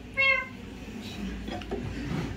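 A single short, high, wavering meow at the start, followed by quiet rustling and scraping in the background.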